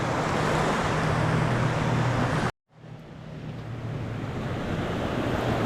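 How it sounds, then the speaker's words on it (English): Big Gulf of Mexico waves break on the beach at Pass-a-Grille with a steady, loud roar of surf and wind buffeting the microphone, cut by a brief dropout before the wash resumes. "The waves are much bigger."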